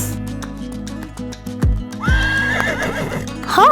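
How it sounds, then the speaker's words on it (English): A domestic horse gives a loud, close neigh, a high rising whinny that wavers and falls away, over a steady low background hum. "Horse."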